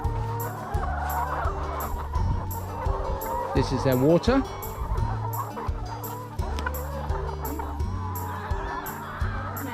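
Chickens cluck and call on a small farm in Uddeholm, Värmland, Sweden, a steady busy flock sound running throughout, with a person talking briefly over it.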